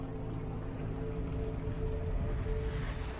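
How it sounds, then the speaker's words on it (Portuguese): A steady, low droning hum of boat motors on the sea in an area with marine traffic, continuous and fairly faint, with no voices. "O estranho barulho dos motores certamente chamaria a atenção deles"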